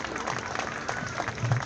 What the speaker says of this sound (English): Let's have another rousing round of applause for Jimmy Richardson